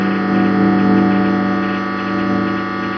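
A guitar strummed once and left to ring, picked up by a homemade single-coil Telecaster bridge pickup held to a cable and played through an amp, with a steady buzzing hum and a sustained, slowly fading chord.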